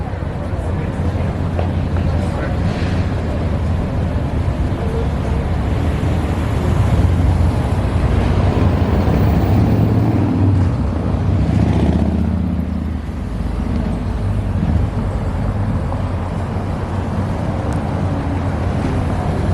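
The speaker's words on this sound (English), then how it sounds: "We get to ride a 2008 DE60 LF." A 2008 New Flyer DE60LF articulated bus in Seattle arrives and carries riders with a loud, steady engine and road drone that swells and eases slightly. Voices talk over it throughout.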